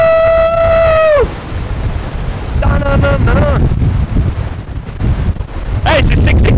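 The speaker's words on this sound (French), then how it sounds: "le vent a l'air de se calmer" Strong wind buffets the microphone on the Irish coast, a loud rumbling roar that eases partway through, with brief voice-like whoops and a shout rising over it.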